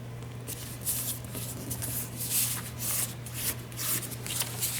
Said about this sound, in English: we'll go ahead and we'll fold this up